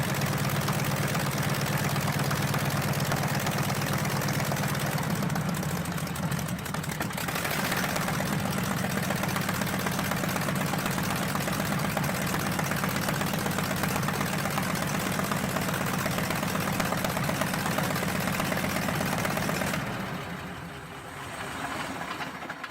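A radial aircraft engine runs at a steady pace, giving a loud, continuous low drone that dips briefly near the middle and falls off toward the end.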